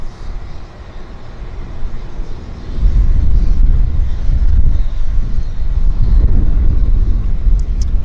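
Air North Boeing 737-800 airliner on its first flight at Vancouver Airport: a low, rumbling engine roar starts quiet, then swells after a few seconds and holds steady and loud.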